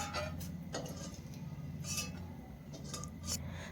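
Fried brinjal pieces lifted out of a pan of hot oil with a metal utensil, bringing a few light clinks and scrapes over a low steady background hum.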